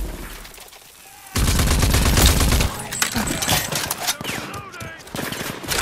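Shotgun blasts ring out in the action shooter Rage 2: after a quiet lead-in, a loud burst of heavy gunfire erupts, followed by scattered further shots and game effects.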